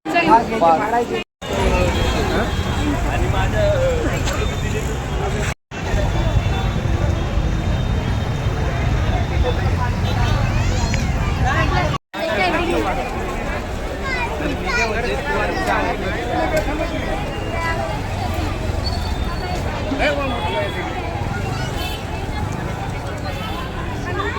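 Dense, steady crowd hubbub fills a queue at the Jejuri temple, with many voices blending into a continuous murmur, broken by a few brief dropouts.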